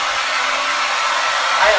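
A hair dryer blows steadily at close range while drying someone's hair, a loud continuous whoosh with no pause.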